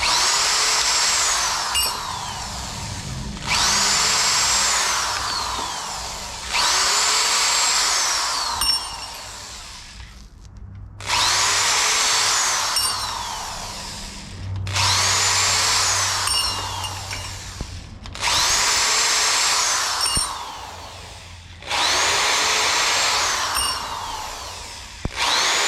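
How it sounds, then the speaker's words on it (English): An electric drill spins a chamfer tool to deburr push rods during a roller cam swap on a 1955 Plymouth, with seven or eight loud, close whirring runs each lasting a few seconds and separated by brief pauses, with no talking. "now that I got all my push rod lengths set up, I got my little chamfer here. Hit each one of them."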